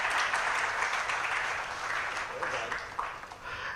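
Audience at a live tech event applauds steadily, a dense wash of clapping that fills the moment and tapers slightly toward the end.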